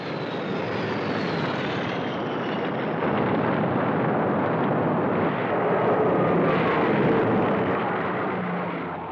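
World War II level bombers, each carrying a single 1,700-pound bomb, roar overhead during the attack on Pearl Harbor, a loud, continuous, broad engine drone that swells and holds throughout, with no clear separate bomb blasts.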